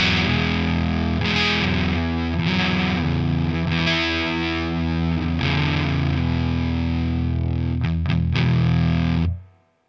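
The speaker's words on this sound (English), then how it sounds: "let's kick in the fuzz" Electric guitar through a fuzz pedal, a thick, saturated and sustained tone with a few strummed chord changes, loud and close, cutting off abruptly at the end.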